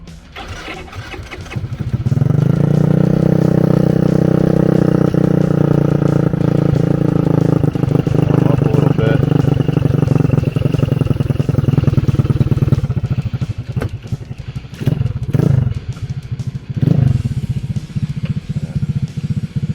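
A GY6 scooter engine is choked and fired up, catching after a short crank near the start and settling into a loud, steady run that holds for about ten seconds before throttle blips and rough revving at the end.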